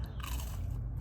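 A single crunchy bite into a cornmeal-fried green tomato, close and crisp, followed by brief chewing.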